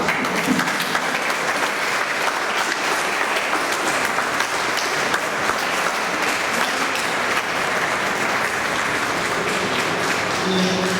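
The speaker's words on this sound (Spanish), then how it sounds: "pido fuertes aplausos" Loud, dense congregational applause welcoming a priest speaker in the parish of Santa Cecilia, sustained evenly for about eleven seconds without pause.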